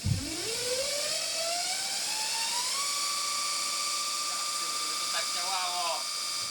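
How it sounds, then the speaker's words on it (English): An electric motor with its drive chain removed spins up from a low start into a rising whine, then holds a loud, steady, high-pitched hum with a broad whirring noise underneath. "we fired up the motor to see how much of the sound it would produce on its own"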